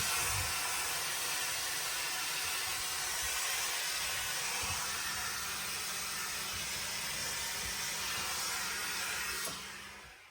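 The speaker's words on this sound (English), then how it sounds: "let's give it a good douse of steam" A continuous, loud hiss of steam from a hat steamer onto an Akubra fedora runs steadily throughout with a low hum underneath, tapering off at the very end.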